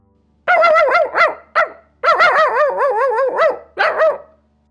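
A human voice mimics a small yapping dog in quick, high-pitched bursts of yips, loud and close, with short pauses between clusters.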